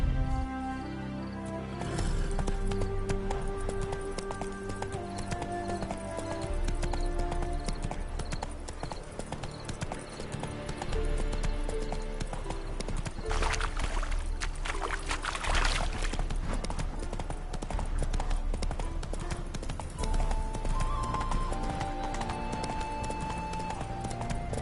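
Steady clip-clop of horse hooves at a trotting rhythm in The Witcher 3: Hearts of Stone, layered under continuous music with a brief swell of noise midway.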